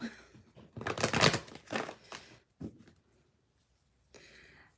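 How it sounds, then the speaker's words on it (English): Tarot cards are shuffled by hand close up in a series of quick riffling, rustling bursts followed by a short pause and another brief shuffle, with no talk. "I am shuffling the cards now."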